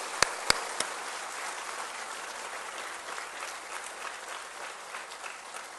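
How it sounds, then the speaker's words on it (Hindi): Steady applause from a crowd fills the clip, with a couple of sharp claps near the start, continuing evenly throughout. "तालियों की गड़गड़ाहट के साथ उनका धन्यवाद करें और उन्हें बधाई दें"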